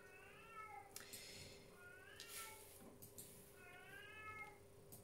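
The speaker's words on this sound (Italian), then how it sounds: "E il gatto protesta." A cat meows in protest three times, each call a rising-falling harmonic cry, fairly close over a steady background hum, with no talk.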